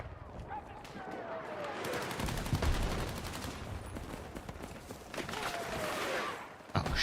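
Rapid gunfire from a video game, with bursts of shots and rattling fire running through most of the stretch under a steady game soundscape, at moderate loudness.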